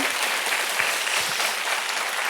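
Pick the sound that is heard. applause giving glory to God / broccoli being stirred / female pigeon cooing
applause giving glory to God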